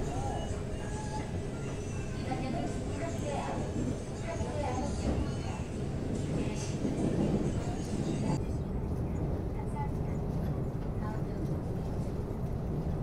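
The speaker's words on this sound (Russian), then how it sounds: "почему мы поехали на метро" A Seoul metro train carriage in motion gives off a steady low rumble and rattle throughout, with indistinct background voices in the car.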